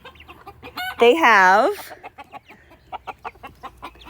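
Roosters on a chicken farm crow once in a loud, bending call, followed by a run of short, close clucks, with brief talking in between.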